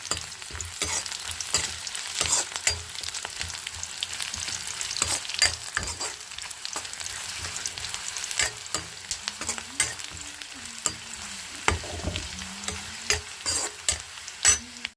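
Onions frying in a pan, a continuous sizzle with frequent sharp stirring scrapes and taps, close up, while faint low sounds drift in the background partway through.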